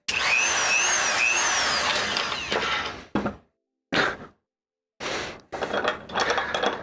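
A Dremel rotary tool whines at high speed with shifting pitch for about three seconds, then is switched on and off in short bursts with silent gaps between.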